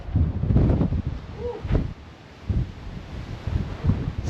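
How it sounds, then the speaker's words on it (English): Strong wind buffets the microphone on Abbey Craig, a hill near Stirling Bridge, in loud irregular gusts that rumble and fade over a few seconds with no speech. "It's so windy."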